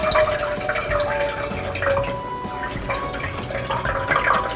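Water is poured into a hot cooking pot while making sauce for squid balls, with a close, continuous splashing and trickling run that holds steady throughout, and nobody talks.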